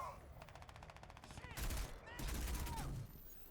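Gunfire in Crysis 2 Remastered: a fast rhythmic burst of shots followed by two heavy, loud blasts over a steady game background.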